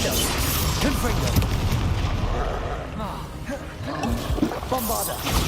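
Confringo spell blast in the video game Hogwarts Legacy, a booming, fiery burst amid ongoing combat rumble and crackle, with a voice speaking over the noise.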